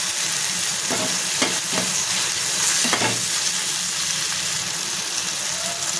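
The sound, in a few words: frying tomatoes with garlic and chili flakes in a pan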